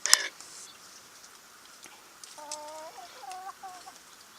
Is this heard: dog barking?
no